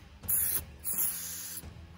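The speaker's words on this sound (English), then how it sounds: "I'm going to spray it with bed liner." Bed liner is sprayed from a can onto a Ford Ranger winch mount part in two hissing bursts, a short one followed by a longer one, each starting and stopping sharply close by.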